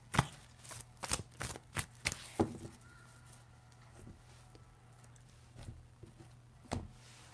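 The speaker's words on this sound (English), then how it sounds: "Kind of hard to shuffle them." Tarot cards are shuffled in quiet bursts of sharp riffling snaps, several clustered early and a few scattered later, close by in a quiet room.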